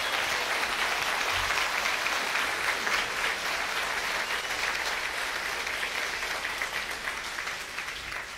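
Applause from a television telethon audience fills the room in a dense, continuous wash of clapping that holds steady and slowly fades toward the end, with no talking.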